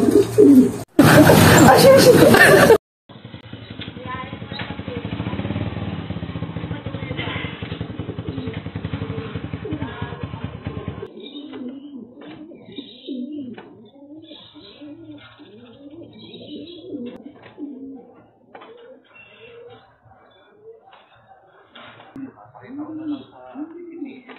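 Pigeons cooing in a loft, soft repeated coos in the second half after a loud burst of noise and a stretch of mechanical hum at the start.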